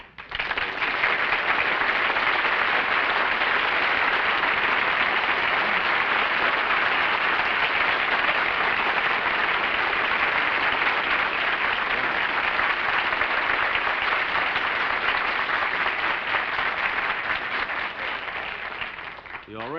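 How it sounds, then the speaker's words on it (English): Loud, sustained applause from a studio audience greeting film star Gary Cooper as he comes on a classic Jack Benny radio program, a dense wash of clapping filling nearly twenty seconds before tapering slightly at the end. "You already got more applause than I did."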